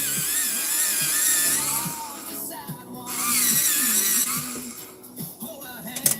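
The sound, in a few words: pencil sharpener sharpening colored pencils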